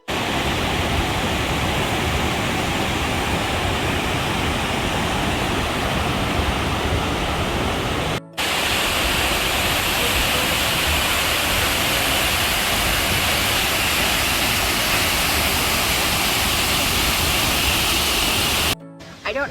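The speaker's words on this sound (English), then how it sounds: "waterfall is only like a 5-minute walk from the car, so super nice, but quite crowded, but it's so beautiful" A waterfall in Doi Inthanon National Park roars in a loud, dense, continuous wash of falling water that is close and steady throughout, with only momentary breaks.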